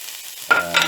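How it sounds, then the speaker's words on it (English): Chopped onion and green chilies hit a hot pan for an oyster omelette, a sudden close sizzle bursting up after a quiet start and flaring again briefly just before the end. "onion and fry along with the green chilies"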